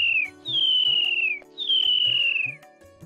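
A man whistles an imitation of a myna bird: two long, gliding, slowly descending whistles, close and clear, with a low steady hum underneath.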